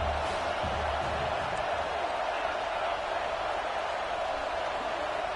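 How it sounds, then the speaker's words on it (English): A dense, steady roar from a stadium crowd in an NCAA college football video game runs continuously, loud and broadband, with no clear talk over it. "Man, this crowd really affecting the football game."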